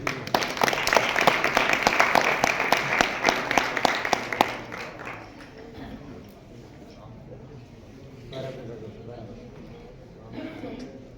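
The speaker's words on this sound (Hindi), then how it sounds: "तालियां बजा दो भाई।" Listeners at a devotional gathering clap in a loud, brisk burst for several seconds before it dies away, and a voice speaks afterward.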